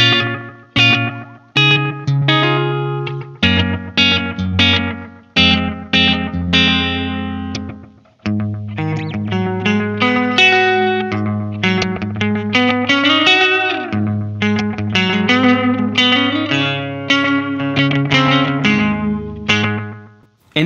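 An electric guitar plays melodic phrases through a Boss Waza DM-2W delay pedal in standard mode, each note echoing and trailing off behind the next, with no talking.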